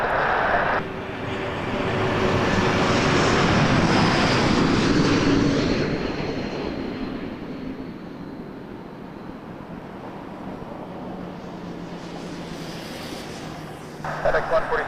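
A FedEx MD-11 jet at Toronto Pearson Airport at night, its broad engine roar swelling over a few seconds and then slowly fading into a lower distant rumble.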